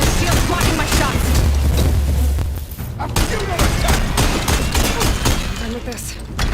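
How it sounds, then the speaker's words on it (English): In Horizon Forbidden West, a volley of shots strikes an enemy's shield during combat as a rapid string of sharp impacts over a rumbling game mix. A heavy low boom opens the barrage and a player's voice is heard in places. "Shield's blocking my shots."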